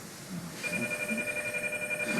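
A telephone rings indoors with a steady electronic trill that repeats in quick pulses, fairly clear against a quiet room background.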